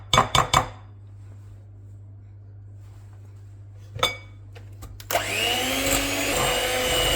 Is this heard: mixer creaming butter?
yes